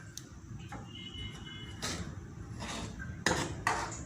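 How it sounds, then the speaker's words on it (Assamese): Rice flour is stirred in a pan for sweet laddoos, giving scattered scrapes and clinks of a utensil against metal over a low steady background hum. "এতিয়া মই অকণমান টাইম এনেকৈ লৰাই থাকিম।"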